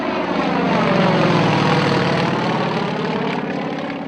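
A Yak-52 two-seat aerobatic trainer with a 360-horsepower radial engine drones overhead, a loud, steady, rough propeller roar holding throughout with no talk.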